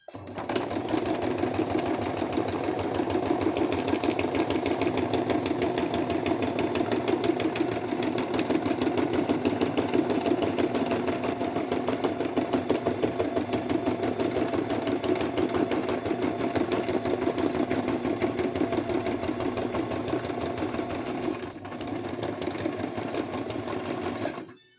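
A sewing machine stitches along the edge of a handmade grimoire folio, running steadily and loudly for the whole stretch with a fast, even mechanical whir, a brief slowdown near the end, and no voices.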